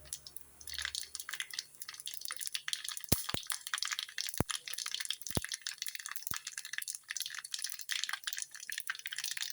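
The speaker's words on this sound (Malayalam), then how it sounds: "കടുക് പൊട്ടി കഴിഞ്ഞു." Mustard seeds, with fenugreek and cumin, pop and crackle in hot oil for a Kollam-style sardine dish: quiet, irregular sharp snaps scattered over a soft background hiss.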